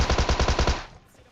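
Rapid automatic gunfire from PUBG Mobile, a loud burst of about eight evenly spaced shots in under a second, then a fading tail into near quiet.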